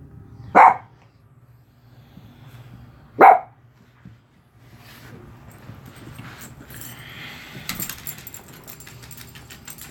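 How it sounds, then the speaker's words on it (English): A pet dachshund gives two sharp, separate barks in a room, followed by quieter household rustling and a light jangle toward the end. "That's my wiener dog."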